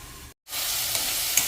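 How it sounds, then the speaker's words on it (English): Onion tomato masala for paneer butter masala fries in a pan with a loud, steady hiss, broken by one brief silent gap before the sizzle resumes. "The onion tomato masala is fried perfectly now"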